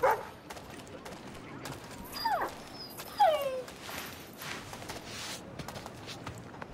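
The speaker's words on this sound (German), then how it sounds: "Du willst jetzt nicht bellen, um zu bellen, du willst nur Aufmerksamkeit" A dog in the video game Assassin's Creed III whimpers, with a few short, high whining yelps spread over several seconds at a modest level above a quiet game background.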